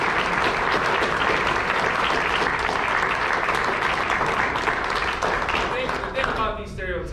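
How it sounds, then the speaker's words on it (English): Loud, dense applause from an audience at a fraternity guest presentation, a continuous roar of many clapping hands that holds steady before thinning toward the end as a voice begins to emerge. "can we give a round of applause for all of y'all?"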